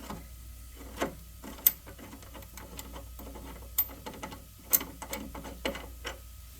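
Rocker arm attachment bolt on a Zenith chiropractic high-low table turned out by hand, a series of small metallic ticks and clicks at an irregular pace, close and quiet.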